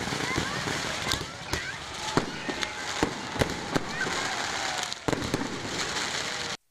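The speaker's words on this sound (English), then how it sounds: "with fireworks celebrations of defeat of evil" Fireworks at a Dussehra festival celebration crack and pop in a rapid, irregular string of sharp bursts over a dense, continuous crackling roar, with a crowd's voices mixed underneath throughout.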